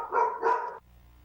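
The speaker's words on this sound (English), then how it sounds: "And the dog's excited." An excited dog barks twice in quick succession inside a house, moderately close and clear, and then the room goes quiet.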